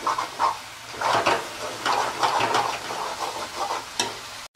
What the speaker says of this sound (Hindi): तो भाई मसाला अच्छे तरीके से फ्राई हो चुका है